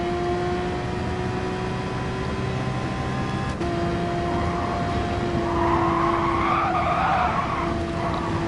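A GT3 race car in a racing video game at Spa-Francorchamps brakes hard, its tires skidding and squealing over a steady engine drone, loud and close.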